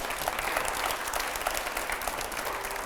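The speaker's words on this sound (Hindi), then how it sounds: "पहले जोरदार तालियां" A studio audience at a Hindi TV panel interview with BJP MP Arun Govil claps loudly and densely, a continuous roar of hands throughout.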